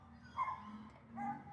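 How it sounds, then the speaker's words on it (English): A neighbour's dog barks and yips at a distance outdoors in the morning, two short faint bursts over quiet background. "That's not my dog barking"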